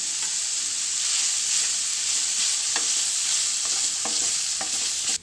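A masala mixture with chili powder, chaat masala and garam masala being stirred and fried in a pan: constant loud sizzle punctuated by repeated spatula scrapes and taps, close up with no voices.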